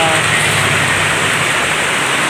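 Rain falls at a rural campsite by a hut, a loud, dense, even hiss that stays steady and close throughout with no voices.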